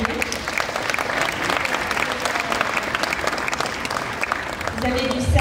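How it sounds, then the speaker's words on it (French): A crowd at a citizen participation festival in Saint-Denis, Réunion, applauds volunteer municipal agents with continuous, dense clapping throughout, and voices are faintly mixed in. "donc on peut les applaudir"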